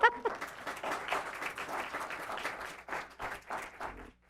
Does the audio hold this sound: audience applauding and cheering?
yes